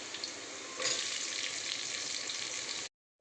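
Chopped onions sizzle in hot oil in a pan while ghee rice is being cooked, a steady close hiss that grows louder after a moment and then cuts off abruptly.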